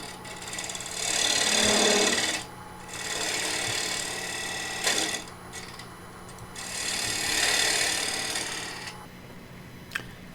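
Wood being turned on a lathe for a lazy susan, a beading and parting tool scraping the shoulder square in two long cutting passes with a steady motor whir underneath, faint and continuous.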